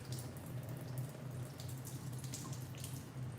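Water drains from a batch of hand-shredded cabbage with a steady, soft trickling and splashing, continuous and close, with no talking.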